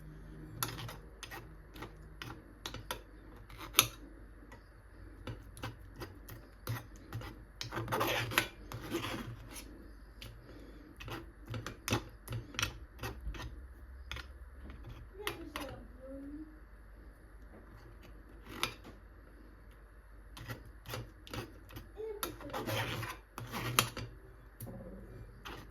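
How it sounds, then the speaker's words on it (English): Spoon scraping and scooping seedy fruit flesh, with soft repeated rasping, gritty scrapes and small ticking clicks of seeds, faint and close, alone without talking. "Then you scoop the flesh part."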